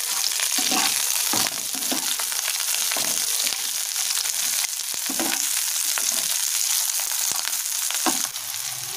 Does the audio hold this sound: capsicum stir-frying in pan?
yes